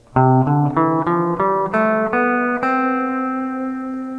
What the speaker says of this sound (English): Here's a major scale played in a position on the fretboard.